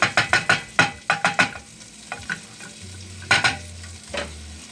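Chorizo frying in a pan, a crackling sizzle punctuated by a rapid run of sharp spatula scrapes and knocks, then a few more scattered hits, with no talking.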